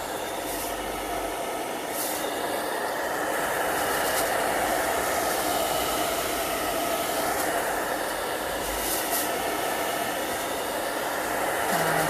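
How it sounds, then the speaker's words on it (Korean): Hair dryer blowing to dry gesso on a hand mirror being prepared for tole painting, a continuous loud close whoosh that holds steady throughout, with faint handling knocks and no talking. "선생님 같은 경우는 드라이기로 빨리 말려서 색깔을 넣어 버릴 거예요."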